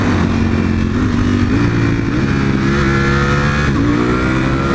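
A loud Nissan GT-R engine in sport mode revs hard and climbs in pitch as it accelerates, steady and close throughout, with no one talking.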